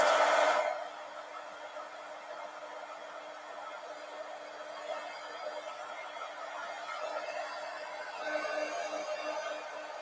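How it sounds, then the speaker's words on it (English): A heat gun blows a steady, moderately loud stream of hot air to dry paint marker coloring, a continuous whirring hiss with a brief louder start. "let's hit this with the heat gun now"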